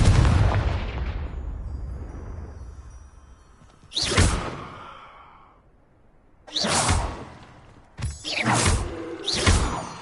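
Confringo blast spells cast in the Hogwarts Legacy video game: a rumbling blast fading out, then three sharp whooshing bursts, the last two in quick succession, loud with no talk.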